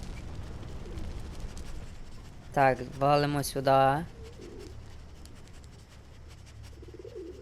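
Soft, low pigeon coos in a video game sound faintly in the background, with a person speaking briefly in between.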